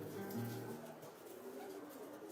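Racing homing pigeons in Senegal coo in low, soft, warbling phrases during the first second, fading into a faint, murmuring background of birds and room noise.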